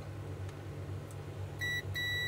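A multimeter in continuity mode testing an e-bike fuse gives two short, clear electronic beeps over a low background hum, with a brief gap between them.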